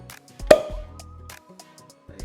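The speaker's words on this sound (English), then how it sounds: "So let's crack a bottle." Home-brewed lager in a bottle is cracked open: a sharp pop followed by a fizzing hiss and faint clinks, close up and alone, with a few small taps afterward.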